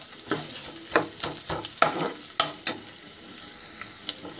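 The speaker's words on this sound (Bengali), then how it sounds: "রসুনটা হালকা ফ্রাই হয়ে গেছে, তারপর আমি পেঁয়াজ কুচিটা দিয়ে দিলাম।" Chopped onion hitting a pan of lightly fried garlic for white sauce pasta, crackling and sizzling close by, with a run of clattering stirs and scrapes that fade into a steadier, softer fry.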